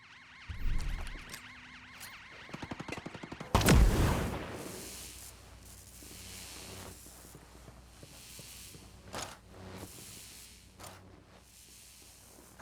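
Unsuppressed gunfire from Ghost Recon while clearing a base: a burst of sharp shots, one loud booming blast near the middle, then scattered fainter reports and game ambience.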